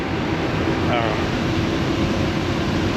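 A corn grain dryer blows air in a steady, loud, broadband roar that holds unchanged from start to finish with no pauses.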